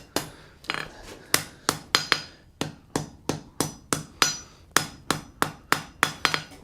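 A hammer forges metal against an anvil, striking about twenty sharp, ringing blows in a quick, fairly steady rhythm, each hit loud and close with a short decay, and no talk.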